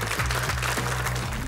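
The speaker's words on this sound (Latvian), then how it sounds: "Aplausīt!" Audience applause at a science quiz final, a dense steady wash of clapping that runs through the whole moment without a break.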